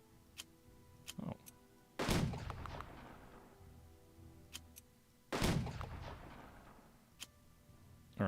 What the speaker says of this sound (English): I'm going to go ahead and try and bombard them.